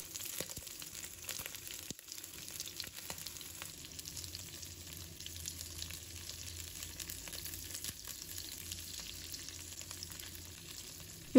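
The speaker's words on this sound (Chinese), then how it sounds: "油热之后把虾放入锅中，注意保持间距" Shrimp fry in hot oil in a pan, spaced apart so they do not overlap, giving a steady crackling sizzle with small pops throughout and no talking.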